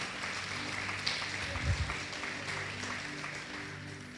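A church congregation applauds with steady clapping that carries on for several seconds at moderate distance, swelling briefly before easing off slightly, with faint voices mixed in.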